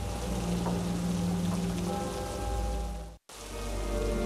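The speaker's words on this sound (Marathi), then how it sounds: "हिंगोलीमध्ये पावसाचा जोर कायम आहे।" Heavy rain in Hingoli, Marathwada, a steady dense roar of water pouring down that cuts out for an instant before resuming just as strong.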